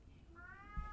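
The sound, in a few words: cat meowing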